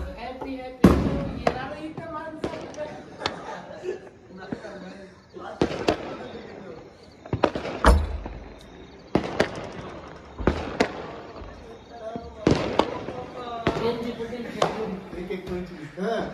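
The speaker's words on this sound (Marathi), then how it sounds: "आपले नवीन वर्षाची सुरुवात झालेली आहे फटाकडे वाजवून" Sharp firecracker bangs burst repeatedly at a New Year celebration, a dozen or so loud cracks spaced irregularly, some near and booming, others echoing, with people talking throughout.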